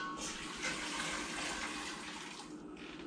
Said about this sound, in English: strain it through this first. Ooh. Strain it through our first colander